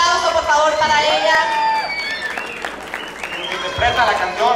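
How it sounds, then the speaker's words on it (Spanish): An audience at a 2010 karaoke night applauds and cheers for a female singer as she is introduced. The clapping is loud and close, with whistles and excited shouts rising over it throughout. "un aplauso por favor para ella"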